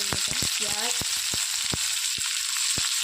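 Cumin and mustard seeds fry in hot oil for a homemade pav bhaji, giving a steady close sizzle with quick crackling pops and light taps scattered throughout, no voices.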